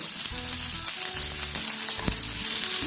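Chopped tomatoes sizzle and hiss steadily in a hot frying pan while cooking methi matar malai, with a brief stirring clatter partway through.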